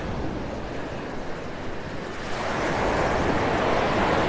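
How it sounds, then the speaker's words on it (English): Morning surf breaking on Vanderbilt Beach in North Naples, Florida, a steady broadband wash of waves that swells louder in the second half, with some wind noise on the microphone and no talking. "A little stroll on the beach"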